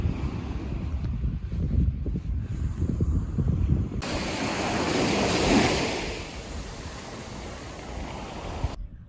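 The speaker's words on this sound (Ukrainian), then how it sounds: "Вода у морі прозора і море так трошки штормить." Black Sea waves wash and roll in against the shore at Chornomorsk near Odesa, slightly stormy, with wind gusting across the microphone; the surf swells into a broad rushing surge midway.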